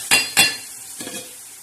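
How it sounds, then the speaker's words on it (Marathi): Chana dal frying in a spiced tempering with turmeric and salt, stirred with a spoon: two sharp scraping clinks close together, then a softer stir and a light sizzle that fades. "आता हे मस्तपैकी असं छान असं हलवून घ्यायचं"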